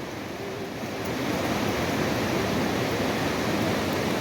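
The Ağasar mountain stream in Trabzon, Turkey, rushes steadily, a dense, continuous roar of flowing water that swells slightly after the first second and stays loud throughout.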